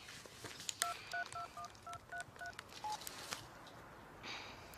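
Keypad tones of a mobile phone as a number is dialed, about nine short evenly paced beeps in a quick sequence, close and clear over a faint room background with no talking.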